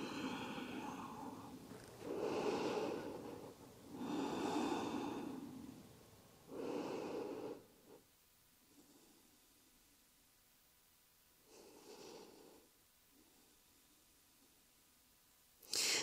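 Slow, deep yoga breaths during a forward-fold stretch, several long soft exhales and inhales spaced a few seconds apart, close and quiet, then near silence.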